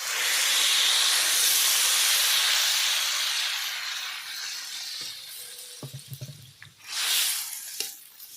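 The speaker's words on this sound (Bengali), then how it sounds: "এবার আমি পরিমাণ মতো জল দিয়ে দেবো" Water poured into a hot pan of spiced potatoes for an aloo matar curry hisses loudly as steam at first, then fades into bubbling, clinks and a brief second hiss.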